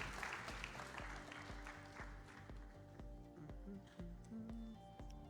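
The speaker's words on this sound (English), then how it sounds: "Let's make a round of applause to the judges." Applause breaks out for the judges at an AI startup pitch event at a Malta summit, rising loudly at first and then thinning out, with background hum and some voices mixed in.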